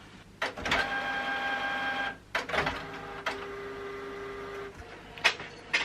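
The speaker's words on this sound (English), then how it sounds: "So let's print these off." A home studio printer prints shipping paperwork for packed orders, running in repeated mechanical passes with short pauses between pages, steady and fairly close.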